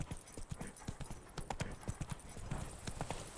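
Hooves of Roach, a horse in The Witcher 3 video game, clip-clop in a steady, quick rhythm close by, with a brief neigh-like touch.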